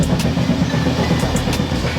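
A passenger train runs on the line toward Newry, south of Belfast, with loud steady rumble and rhythmic clickety-clack of wheels over rail joints, heard close from inside, no talking.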